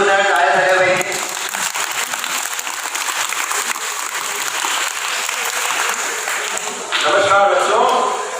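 A crowd of schoolchildren claps loudly at an ashram gathering, a dense sustained burst of applause between stretches of talk at the start and end.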